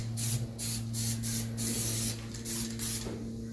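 Spray paint in a grey tone hisses onto a rat rod in a rapid series of short bursts, about eight quick pulses, close and sharp over a faint steady hum.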